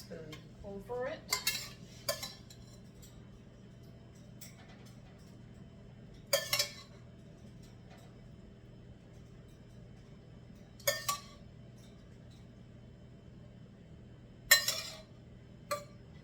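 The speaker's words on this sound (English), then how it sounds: "Take the sauce and I'm going to spoon over it." Tomato sauce is spooned over stuffed pasta shells filled with spinach. Several separate sharp clinks of a spoon against a dish ring out over a quiet, low background hum, with long pauses between them.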